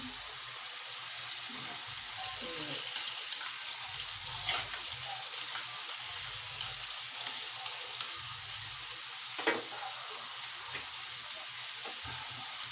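Bagoong fries in a pan with a bright, constant sizzle, while a spoon stirs through it in scattered soft scrapes and clicks, close and with no talking.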